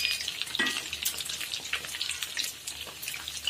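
Vadas, lentil fritters, frying in hot oil, a dense, continuous close-up crackling sizzle with no voices.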